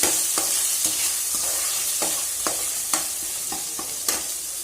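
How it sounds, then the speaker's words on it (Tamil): Ginger garlic paste sautés and sizzles in a pan, a steady hiss broken by several sharp clicks and scrapes of stirring, close and loud with no voices. "இப்போது இஞ்சி பூண்டு பேஸ்ட்டு நல்லா வதங்கிடுச்சு"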